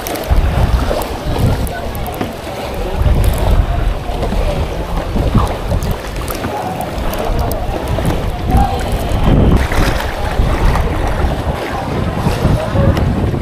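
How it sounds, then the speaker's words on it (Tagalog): Strong wind roars continuously over a boat at sea, buffeting the microphone, with splashing water and faint voices beneath the blustery noise. "Malakas ang hangin."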